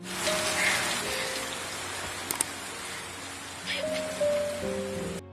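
Rain falls steadily in a film scene where a girl cries in someone's arms, a soft even patter with faint tonal music under it and a couple of brief clicks.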